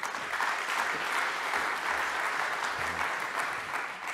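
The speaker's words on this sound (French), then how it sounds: "je vous applaudis" Steady applause from an audience at a French economics prize ceremony, a continuous wash of many hands clapping at moderate distance with no voices on top.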